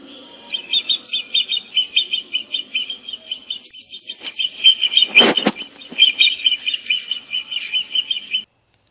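A wild bird gives rapid series of very high, short call-song notes, repeated steadily without any melody, with thin high whistles layered above and a brief loud click midway.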